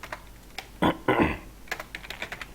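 Rapid tapping on a computer keyboard while entering text in Adobe Illustrator, with two louder bursts of keystrokes followed by lighter scattered clicks, close and clear with no speech.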